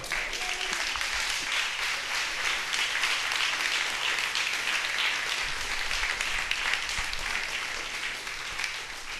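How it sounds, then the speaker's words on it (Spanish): A church congregation gives sustained applause at a worship service, a full, continuous roar of many clapping hands that stays loud and steady throughout, with faint voices mixed underneath. "Brinden un aplauso al Señor."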